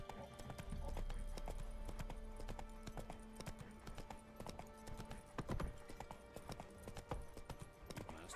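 A horse trots along to regular, moderately loud hoof clip-clops over a constant game ambience bed in The Witcher 3: Wild Hunt, with a brief louder thump near the end.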